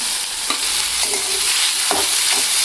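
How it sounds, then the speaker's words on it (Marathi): Okra stir-fried with sautéed onion sizzles steadily in a hot pan, broken by a few soft scrapes of a spatula, close and fairly loud with no talking. "आता यामध्ये भेंडी घालायची कारण कांदा चांगला झाला आहे आपला परतून"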